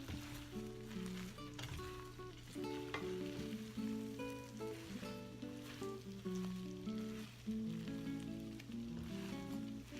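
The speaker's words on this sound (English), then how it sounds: "we're gonna stir this around until it becomes smooth. You can see it's already starting to melt down." A melting treat mixture is stirred in a pot, making a soft, continuous scraping and sizzle-like bubbling that stays quiet beneath background music.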